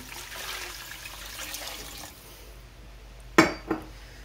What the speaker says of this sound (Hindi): इसमें डालेंगे तीन गिलास पानी